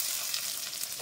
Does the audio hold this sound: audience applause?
no